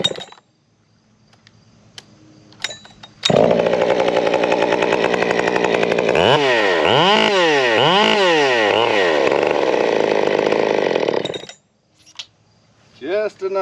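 Big bore 572 chainsaw engine roars loud and close at steady high revs, with several rapid throttle blips rising and falling in the middle before it cuts back; quieter engine and handling noises come before and after.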